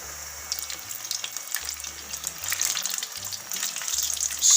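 Masala-coated fish pieces fry in hot oil with a steady, close crackling sizzle, joined by occasional clinks and a soft low hum, and no one speaks.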